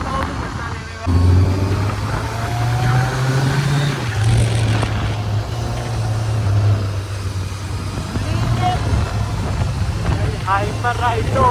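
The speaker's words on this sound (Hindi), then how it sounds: "ये खामोश वादियाँ और इनमें गूंजता मेरी गाड़ी के इंजन का शोर" A Kawasaki Z900 motorcycle rides through a quiet valley on the Mussoorie road, its engine giving a steady low hum that carries through the whole stretch, while someone talks over it.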